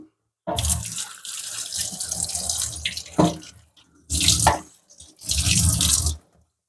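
Tap water gushes in bursts while a water purifier filter part is washed, running for a few seconds, stopping briefly, then splashing again in two shorter spells.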